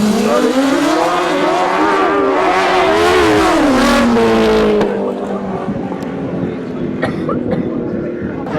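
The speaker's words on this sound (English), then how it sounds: "And they race into the top turn then for the final time." Grasstrack race machines scream into the top turn on a grass oval, a loud buzzing engine note rising and falling as they accelerate, then a quick drop as the pack passes.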